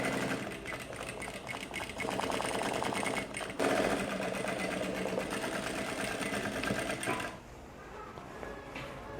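An industrial sewing machine runs steadily at close range, a dense rapid mechanical chatter that shifts in pace as the pedal is pressed, then drops to a lower hum near the end.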